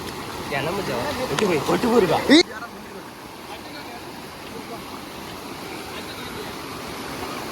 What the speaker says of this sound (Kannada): ಅಲೆ ತುಲೆ ನಮ್ಮ ಕಮ್ಮಿದ ಫಾಲ್ಸ್